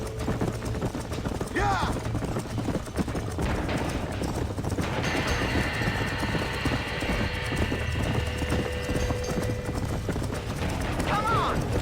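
Horses galloping in Red Dead Redemption as a burning barn scene unfolds, a rapid, continuous clip-clop of hooves with a whinny, under excited shouting voices and game sounds.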